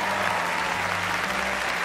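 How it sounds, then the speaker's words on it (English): A studio audience at a game show applauds in a dense, steady wash of clapping, fairly close, with no voices over it. "Round of applause for David so far."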